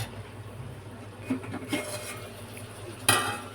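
A steel pot of vegetables cooking for sambar is stirred and then covered with its lid, giving faint scraping stirs over a low background and a sharp metallic clank near the end, with no talking.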